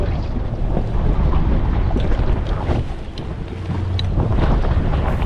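Strong wind buffets the microphone aboard a RIB boat at sea near St Patrick's Island, a constant loud rumbling roar with a faint engine drone and water wash beneath.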